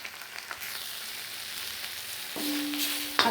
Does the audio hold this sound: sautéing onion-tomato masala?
yes